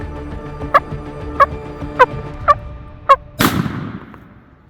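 A wild turkey gobbles five times in a steady rapid sequence during a spring turkey hunt in Iowa, the gobbles sharp and moderately distant over quiet woods, followed by a loud shotgun blast.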